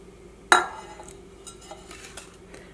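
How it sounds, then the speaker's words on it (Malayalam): A steel vessel is picked up and handled in a home kitchen while preparing a chocolate cake, with one sharp metallic clank followed by a few light, faint clinks and taps; no voices. "അപ്പോൾ അതിന് വേണ്ടിയിട്ട് നമുക്കൊരു സ്റ്റീൽ പാത്രം എടുക്കാം."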